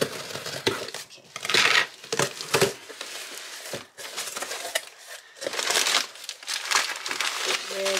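Packing paper from a Studio Calico Documenter scrapbooking kit is crumpled and crinkled close by while the kit is unpacked, in repeated irregular rustling bursts with brief pauses.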